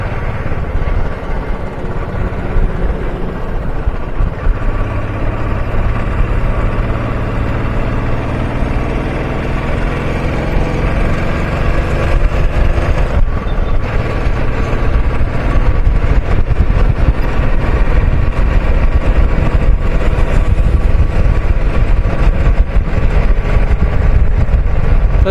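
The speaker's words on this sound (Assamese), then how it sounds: "কি স্কুটি বে, মাক এখন বেয়া স্পীডত গৈ আছে বে" A scooter races along at high speed on a road ride, its engine drone mixed with heavy rushing wind buffeting the microphone, loud and continuous throughout without talk.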